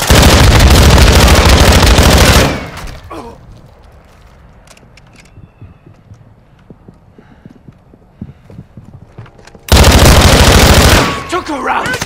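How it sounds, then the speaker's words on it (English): Semtex grenade thrown amid gunfire in the video game Call of Duty: Modern Warfare II: loud, dense bursts of shots and blasts open the stretch and return near the end, with a quieter, scattered lull between. "Throwing Sentex!"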